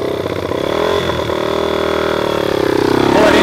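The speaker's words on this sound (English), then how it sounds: "what we'll do now is we'll just use a little bit of throttle, Brad" A dirt bike engine idles and then rises under gentle throttle during a takeoff, a close, loud buzzing revving that builds and pulses toward the end of a short burst.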